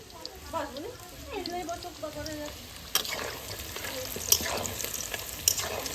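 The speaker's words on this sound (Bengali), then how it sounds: "পকোড়াগুলো আমি লাল লাল করে ভেজে নিয়েছি এবার তুলে নেবো" Oil sizzles and crackles steadily as pakoras fry, with occasional sharper pops and a faint voice-like murmur in the background.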